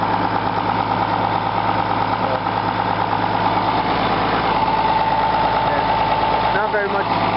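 A Case 2290 tractor's diesel engine idles steadily after a cold start, a continuous loud rumble with even low throb throughout, running alone without a break.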